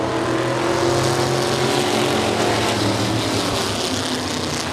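Modified and GOTRA race cars roar together at US 30 Speedway as a heat race gets underway, a dense, loud, continuous wall of engine noise with no pauses.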